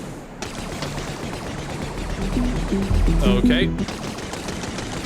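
Gunfire in the Star Wars game Death Troopers: steady rattling shots over a rumbling background, growing louder midway, with someone talking briefly over it.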